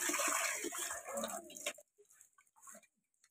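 Water splashes and pours steadily while rice, greens, vegetables and pumpkin are washed, a close, hissy rush that cuts off after about two seconds, leaving a few faint drips and small knocks.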